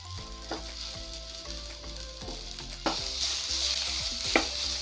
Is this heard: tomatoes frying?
yes